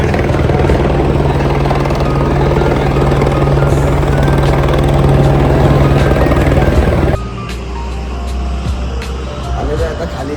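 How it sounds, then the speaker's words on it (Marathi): A helicopter arrives at a mountain helipad on the Chardham Yatra pilgrimage route, its loud, close rotor and turbine roar holding steady, then cutting to a lower rumble near the end. "बघूया आता हेलिकॉप्टर कधी येतो आणि आम्ही कधी खाली जातो."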